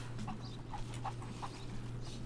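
Chickens cluck in short, scattered calls over a steady low hum in Rise of the Tomb Raider, the bird sounds quiet and a little distant against constant game ambience.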